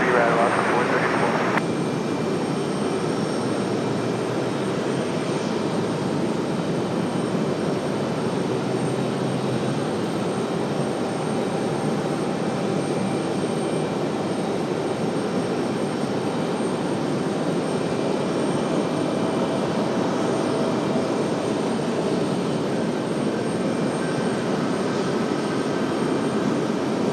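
Alaska Airlines flight 434 landing on runway 23 right at Raleigh-Durham, a steady broadband engine roar holding loud and constant throughout, with a tower radio voice briefly over it near the start.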